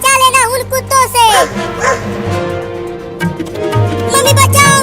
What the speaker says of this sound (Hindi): वो कुत्ता आ रहा है, उससे डरना मत औरत